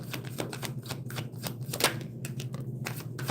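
Tarot cards are shuffled by hand with a quick, irregular run of close papery flicks and riffling snaps over a low steady hum, and no one speaks.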